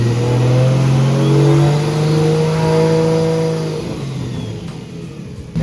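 A Nissan C33 Laurel with a G-series turbo and its speed sensor fitted revs up and holds with a droning engine note and turbo whistle, close and loud, then settles toward idle.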